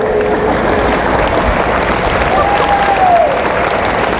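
A large audience at a Christian talk in Batangas applauds loudly and continuously, a thick, even roar of many hands clapping with a faint whistle passing through.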